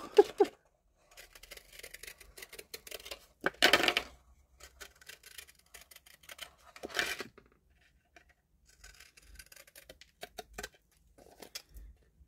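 Sewing scissors cutting paper for a card: a few sharp snipping bursts stand out among soft, scattered paper rustles and small handling clicks, close and quiet, with no talking.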